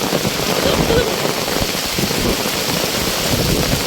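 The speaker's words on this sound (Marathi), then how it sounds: "बघा खतरनाक पाऊस वारा वेळा सुटला आहे" Heavy monsoon rain and gusting wind in the Konkan countryside, a dense, steady roar of rainfall with wind buffeting close to the microphone throughout.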